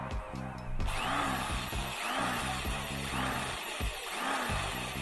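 A power drill bores into a wooden plank, its motor whining steadily and loudly with rhythmic surges in pitch as the bit bites into the wood, with no talking.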